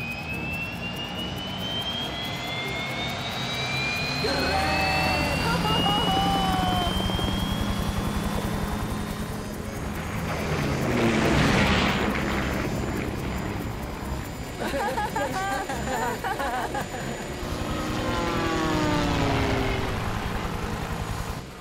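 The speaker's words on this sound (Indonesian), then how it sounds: "Kita naik helikopter." A loud cartoon helicopter engine whines and roars steadily throughout, with high turbine tones and swelling rotor noise, close and continuous.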